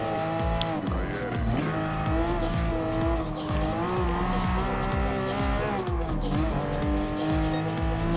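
Porsche 911 GT3 race cars from Gran Turismo Sport scream along at high revs, engines rising and falling through gear changes in a steady, loud drone, with faint speech beneath.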